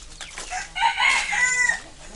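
Chickens in a farmyard cluck close by while a rooster crows in short, bright bursts, with faint background voices.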